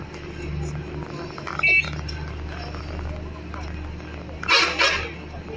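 Traffic on the main Karachi–Peshawar road, a continuous low rumble of passing vehicles with a couple of horn honks, one brief and one louder near the end, under someone talking.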